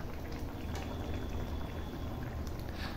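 Water is poured into an Odia-style fish curry simmering on the stove, a dense, steady rushing and bubbling sizzle filling the whole moment, close and fairly loud with no talk.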